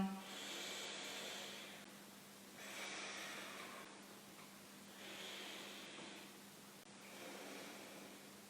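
Slow, airy exhales during a chair yoga session, four soft breathy swells spaced roughly two seconds apart over a faint steady hum, with no other sounds between them.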